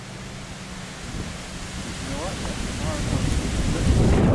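Strong wind blusters outside Parsonsfield Seminary in rural New England, a broad roaring rush that builds steadily louder toward the end, with brief faint voice-like tones midway.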